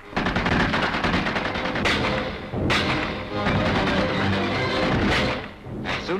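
Machine gun fire from a Royal Marines assault rattles in sustained, dense bursts, with heavier thuds and cracks cutting through the steady barrage.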